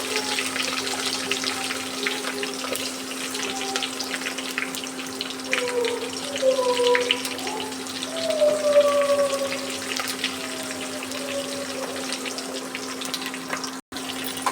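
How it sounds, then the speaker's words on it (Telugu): Onions and curry leaves fry in a pan for an alusandala dish, giving a steady, moderate watery sizzle with small crackles and a constant low hum underneath. No voices are heard. "ఉప్పు వేసుకొని బాగా ఫ్రై చేసుకోవాలి"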